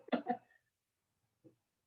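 A couple of quick harsh coughs close up, followed by quiet and a faint short throaty sound.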